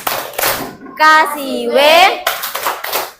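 Children clap their hands together in a classroom, a short burst of clapping broken up by bright chanted and sung children's voices.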